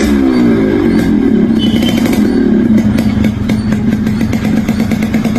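A Yamaha RX100 motorcycle engine runs steadily up close, loud and rumbling, with a rattling idle and no voices.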